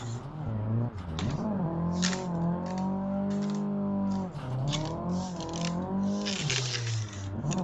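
A Nissan S13's engine drones at high, sustained revs while drifting in third gear, the pitch sagging and climbing again as bursts of tire scrabble and crackle cut through; the car is loud and close.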